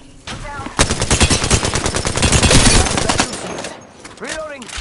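Rapid automatic gunfire from an online arena shooter rattles in a loud, sustained burst of closely spaced shots lasting a couple of seconds, then fades into a few scattered sounds and a voice.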